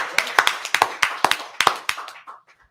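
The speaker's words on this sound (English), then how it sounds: "Clap it up. Give it up for that." Several sharp hand claps from an audience ring out in an uneven burst that fades after a couple of seconds, close and fairly loud.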